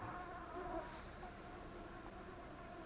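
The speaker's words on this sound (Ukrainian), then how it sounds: "Оце то комарів." A swarm of mosquitoes buzzes outdoors near a beekeeping site, a steady, faint, continuous whine with no voices.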